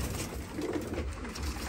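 Pigeons cooing inside a coop of fancy breeds in Balıkesir, soft low murmuring calls rising and falling continuously at close range over a faint hiss, with no talk.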